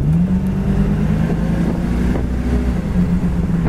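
A 1970 Ford Mustang convertible with a 302 two-barrel V8 and automatic transmission accelerates under kickdown, its engine a loud, steady low drone that holds throughout without any talking.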